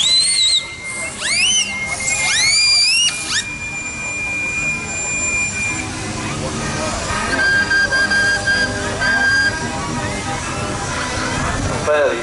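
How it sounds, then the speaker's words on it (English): Whistle of a miniature steam traction engine at an outdoor steam rally, a few rising shrill blasts in the first seconds, followed by softer tones and crowd noise. "Fairly feeble bit of whistle blowing"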